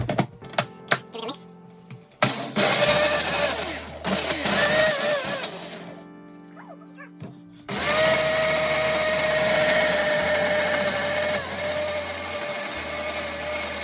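A Ninja blender with a spinning lid whirs steadily as it mixes pancake batter for Danish pancakes, a loud motorized drone that starts, pauses and resumes after a few seconds, with clattering handling noises at the start.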